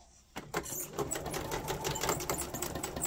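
A sewing machine backstitching a seam on fabric while sewing 18th-century fall front trousers: a quiet start, then a steady fast rattling run of needle strokes, close and continuous with no talking.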